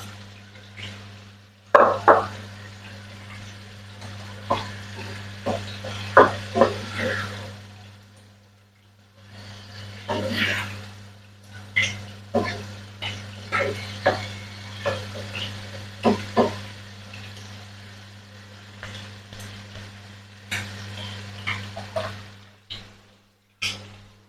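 Prawn and pineapple fried rice with spring onion gets stirred in a pan, giving irregular scrapes and clinks with a soft sizzle over a low steady hum.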